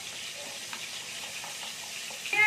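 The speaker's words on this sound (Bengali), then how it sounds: "এখানে আমার মশলাটা হয়ে গেছে, পুরোটা ভালো করে ভেজে নিচ্ছি।" Spice paste fries in a pan for a light vegetarian ridge gourd and potato curry, giving a steady soft sizzle with faint stirring clicks and a louder burst of frying at the end, no voices.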